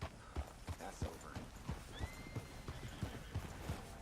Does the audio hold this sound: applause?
no